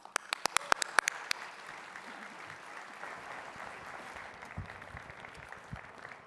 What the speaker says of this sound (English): Let's welcome Brent to the stage and give him a round of applause